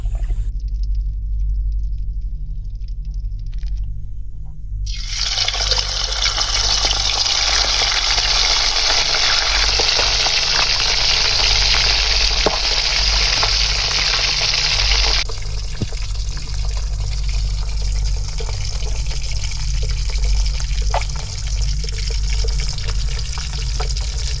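Food frying in a pan at a riverside camp: a steady, loud sizzling hiss starts suddenly after a few quiet seconds, then eases to a softer crackle over a low background rumble, with no talking.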